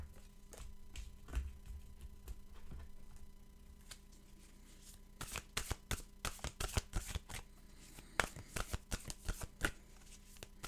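A deck of oracle cards is shuffled close by, with sparse soft riffles at first and then a dense run of crisp card flicks and slaps, no voice.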